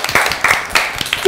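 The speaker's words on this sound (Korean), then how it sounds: "박수 한번 쳐주세요." A small group claps in a few short, uneven bursts, close and fairly loud, with some voices mixed in at an outdoor gathering in Cheongpyeong.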